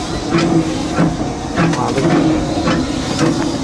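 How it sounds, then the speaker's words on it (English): Disneyland Railroad steam locomotive running nearby, a steady loud hiss and rumble with faint rhythmic chuffing pulses from the pistons, continuous throughout with some talk mixed in. "it's that steam that's driving a set of a piston in each cylinder back and forth"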